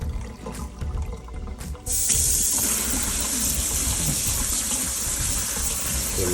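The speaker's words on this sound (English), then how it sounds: "I'm going to rinse it with some cold water." Cold tap water gushes steadily over noodles in a small strainer, starting abruptly after a quiet moment and continuing as a loud, even rush.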